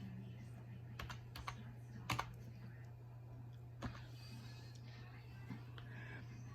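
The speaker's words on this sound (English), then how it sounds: "I'm going to just type in test." Sparse keystrokes on a computer keyboard, a few distinct taps and short bursts over a steady low electrical hum, close and fairly quiet.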